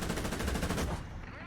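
A tank's fast-firing stabilized cannon in War Thunder lets off a rapid, loud, close burst of shots that stops abruptly after about a second, leaving a short decaying tail.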